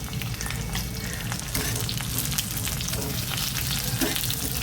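Green chili, garlic cloves and ginger sizzle steadily in hot oil, a continuous close frying crackle with faint stirring and no voices.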